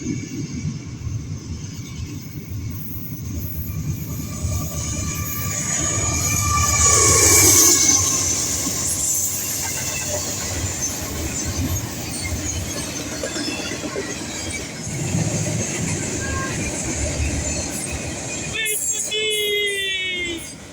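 An eastbound international intermodal freight train rolls past, a long steady rumble of wagons with squealing wheels and a brief horn-like tone, heard from nearby and continuous throughout.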